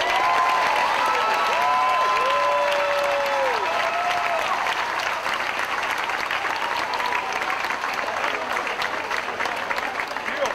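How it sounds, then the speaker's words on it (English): A commencement audience breaks into sustained, dense applause for the graduates, steady clapping filling a large hall with a few cheers and a voice briefly rising over it early on. "Give a huge round of applause for the graduates."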